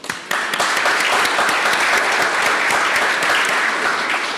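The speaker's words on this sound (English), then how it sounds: "Let's give them a round of applause." A conference audience applauds panelists after a discussion on Hungary and Europe, a loud, dense, even wash of clapping that starts abruptly and holds steady throughout.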